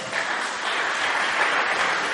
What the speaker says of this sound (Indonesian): Mari tepuk tangan Yesus.